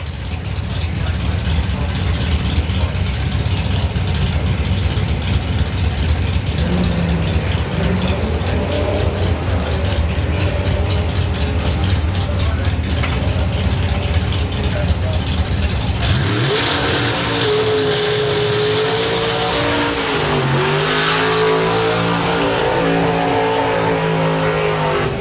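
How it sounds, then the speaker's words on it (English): Hot rod drag racing at an NSRA meet, a Plymouth running alongside a 1967 Camaro: loud, sustained engine roar and revving throughout, with the pitch shifting as the cars accelerate away. "The Soper and Heck Plymouth. Going alongside that gorgeous 67 Camaro"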